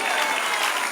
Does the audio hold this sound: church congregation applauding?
yes